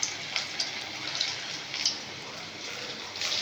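Biuli dal fritters with coriander, onion, cumin and curry leaves fry in hot oil in a wok, giving a constant close sizzling hiss with scattered crackling spatters and no talk.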